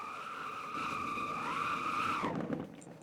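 A video-game vehicle brakes hard with its tires skidding, a sustained squeal that climbs slightly and then cuts off abruptly, followed by a short rattle and fading engine noise.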